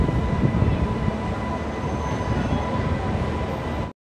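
Steady roar of the Jammu Tawi Sealdah Humsafar Express rolling along, heard from inside a sleeper class coach: dense continuous rumble with a faint tonal hum, unbroken until it cuts off abruptly at the end.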